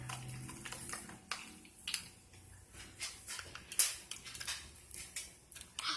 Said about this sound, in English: And then stir, stir, stir.